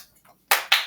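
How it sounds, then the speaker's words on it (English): Students in a pre-algebra classroom clap: two sharp, loud hand claps in quick succession after a brief quiet moment, close to the listener. "Get ready to start clapping."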